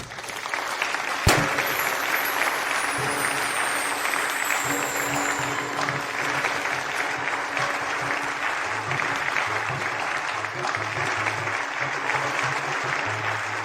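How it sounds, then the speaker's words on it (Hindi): Sustained, dense applause from guests welcoming the groom at a wedding ceremony, steady and full throughout, with a sharp knock near the start and faint voices beneath. "स्वागत कीजिए हमारे शानदार दूल्हे का जोरदार तालियों के साथ"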